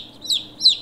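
Late-hatched chicks in a brooder giving two short, high peeps, close and clear against a quiet background.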